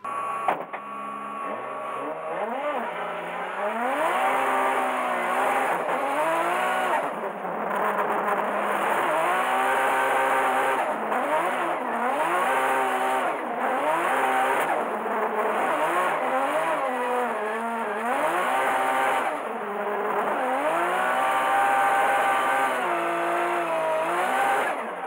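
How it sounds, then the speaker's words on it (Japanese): A Toyota GR Supra drifts at a D1GP all-star shoot-out, its engine revving high and wavering continuously with tire squeal mixed in, loud and sustained with brief dips. "最高の GR スープラ、初めて見るそのドリフト、白煙を出しながらずっと立ち上がっていく"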